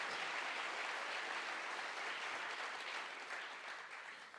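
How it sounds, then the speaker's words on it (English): An audience at a men's alliance birthday celebration claps in steady, dense applause that carries on evenly throughout and tapers slightly toward the end. "So a round of applause"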